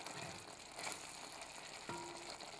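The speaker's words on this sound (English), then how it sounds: "Just gonna let this simmer away for a couple of minutes." A pan of Greek stifado stew, its sauce reduced nearly to a thick coating, simmering and bubbling softly in a gentle continuous sizzle, quiet and close with no speech.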